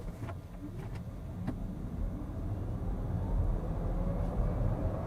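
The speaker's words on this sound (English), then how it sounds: "And here we can also do acceleration, wet road, rear-wheel drive, and we do 0 to 70 kilometers an hour." A VW ID.4 electric SUV in rear-wheel drive accelerating from 0 to 70 km/h on a wet road, heard from inside as a low rumble of tyre and road noise building steadily in loudness, with no talk.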